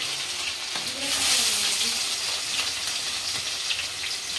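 Onions sizzle in hot oil for veg manchurian, a steady moderate frying hiss with a faint voice and some light clatter mixed in.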